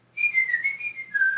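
A single clear whistled tone, wavering slightly in pitch across a short phrase and then dropping lower at the end, heard alone without any talk.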